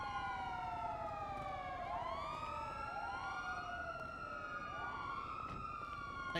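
Several overlapping police sirens wail in sweeping rising and falling tones in the video game GTA V roleplay server NoPixel, steady and continuous, at moderate distance with a low rumble beneath.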